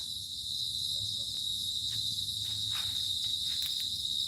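A steady, high cricket trill drones on without pause from a burrow in the dark at dusk, with faint scattered noises underneath.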